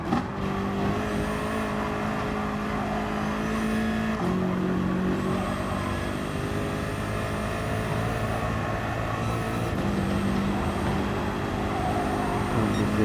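A race car's engine screams at steady high revs around the Nürburgring Nordschleife in GT Sport, its drone continuous and loud, with brief dips in pitch at gear changes.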